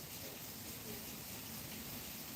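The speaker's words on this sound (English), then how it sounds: "Yeah, it's starting to pour." Heavy rain pours steadily outside, a dense, even hiss of falling water that fills the whole stretch at low level without letup.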